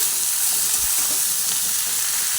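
Diced bottle gourd tipped into hot oil and spices, setting off a loud, steady, close sizzle that holds without a break.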